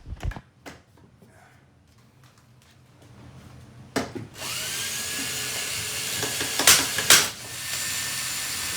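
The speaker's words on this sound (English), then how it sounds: "Now I'm going to put that cap in place and secure it with some self-tapping sheet metal screws." Power driver sinking self-tapping sheet metal screws into a metal cap over an exterior stud cavity during a kitchen remodel, two close, loud high-pitched whirring bursts late on, after a few knocks and handling noises.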